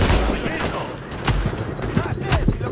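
Gunfire in The Division, several sharp loud shots at irregular intervals in a snowy firefight, with a player talking over the shooting.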